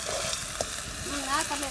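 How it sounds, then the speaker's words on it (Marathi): Onion paste, first roasted over a wood-fired stove and then ground, sautés in a pan for a fish curry, giving a steady, close sizzle and hiss. "तर हे अगोदर आपण व्यवस्थितपणे परतून घेऊयात."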